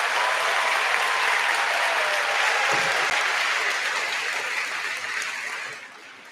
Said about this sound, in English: Let's give our band a round of applause.